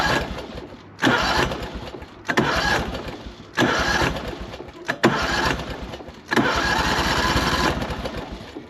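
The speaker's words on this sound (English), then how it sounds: "The starter's even doing it, working almost every time." A Cub Cadet M48 Tank zero-turn mower, sitting unused since 2016, cranks on its starter in several loud, close bursts, each whirring churn breaking off briefly before the next attempt.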